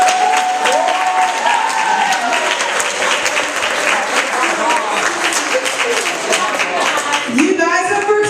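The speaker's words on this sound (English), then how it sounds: "can we clap for our performers really quick?" Audience applause and cheering for student performers at a 2015 high school talent showcase, loud dense clapping filling the room with shouts and whoops rising over it, a voice briefly audible near the end.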